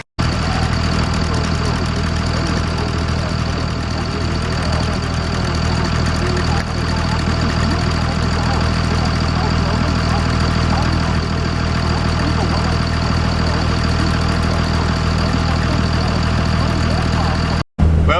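Pontiac Firebird engine idling steadily after a new fuel filter was fitted, a loud continuous rumble with a faint knock that runs nearly unbroken and cuts out briefly near the end.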